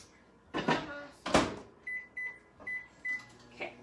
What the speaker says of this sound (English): we're gonna put this in a microwave.